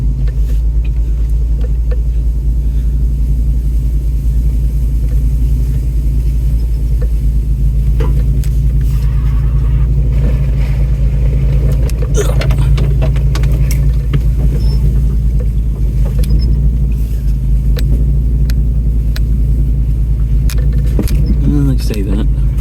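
A four-wheel-drive vehicle crawls off-road over rocks on Modock Hill Road in Madison, New Hampshire, a constant low engine rumble inside the cab with occasional knocks and clunks as it lurches along.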